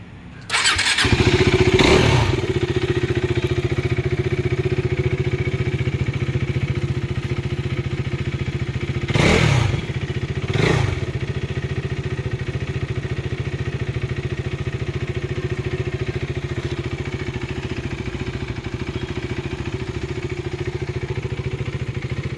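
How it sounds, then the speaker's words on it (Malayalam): A 2016 KTM RC motorcycle with a slipper clutch fires up loudly and settles into a steady, close idle, with two short throttle blips around the middle and a slightly clattery mechanical tone throughout. "അപ്പൊ ഇതാണ് കേട്ടോ വണ്ടിയുടെ എഞ്ചിൻ സൗണ്ട് വരുന്നത്."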